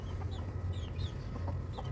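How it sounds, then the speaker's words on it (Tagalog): Chickens on a farm cluck close by, several short clucks and calls spaced irregularly over a low background hum, with no talking. "Check natin yung mga manok dito guys."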